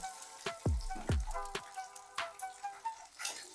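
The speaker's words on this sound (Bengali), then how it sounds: "ভালো করে ডিমগুলোকে আমি ভেজে নেব" Eggs frying in oil in a kadai, heard as quiet sizzling broken by several sharp pops and spatters at irregular intervals, close by, with no talk.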